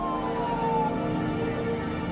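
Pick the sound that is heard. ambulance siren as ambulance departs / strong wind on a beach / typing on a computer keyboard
ambulance siren as ambulance departs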